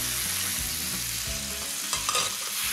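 Frozen peas hitting a pan of softened shallots, giving a loud, steady sizzle and frying hiss with stirring clatter, close up and with no talking.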